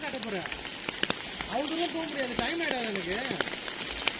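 Heavy cyclone rain falls in Chennai, a steady patter of drops on surfaces close by, with scattered louder splashes and a voice speaking over it.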